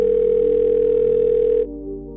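A telephone line tone heard while placing a call: one steady electronic tone holds for about a second and a half, then cuts off, leaving quiet hum.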